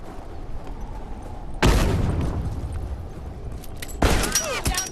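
Two heavy bomb blasts inside a coal mine in The Last of Us Remastered, each a sudden loud boom with a long rumbling tail, separated by a short stretch of low ambient drone.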